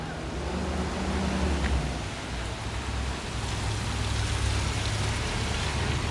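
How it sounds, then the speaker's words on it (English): Steady rain pours onto a street in Williamsburg, Brooklyn, on a stormy afternoon, a continuous, even hiss that fills the whole scene without pause, with no voices. "I sort of enjoy walking in the rain."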